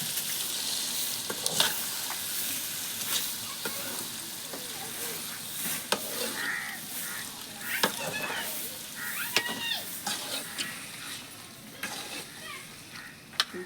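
Masala-coated prawns sizzle and fry steadily in a hot pan for prawn biryani, with continuous crackling and occasional stirring clinks and scrapes, close and fairly loud throughout.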